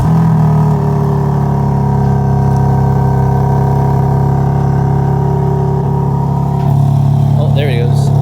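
A new BMW G82 M4 with stock exhaust idles and hums steadily from inside the cabin with a low, droning engine tone that shifts slightly toward the end, under faint background sound.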